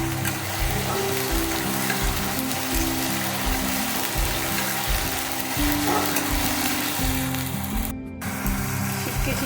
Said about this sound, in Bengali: পেঁয়াজটা একটু ভাজা ভাজা করে দেবো